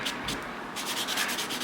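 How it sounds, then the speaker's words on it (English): Nail buffer rubbed back and forth over gel nails in short, close scratchy strokes, with a brief pause before a quicker run of rubbing. "and buff my nails out."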